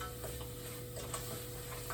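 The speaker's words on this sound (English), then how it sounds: "You just want to keep stirring it." Walnut caramel topping for a warm pear cake being stirred in a pan, giving a steady soft bubbling sizzle with faint scraping strokes, close and fairly quiet, with no talking.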